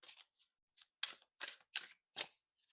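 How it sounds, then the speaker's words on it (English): Tarot cards being shuffled by hand, several short crisp riffling bursts in an irregular rhythm, close and quiet with silent gaps between them. "Spirit keeps telling me to shuffle."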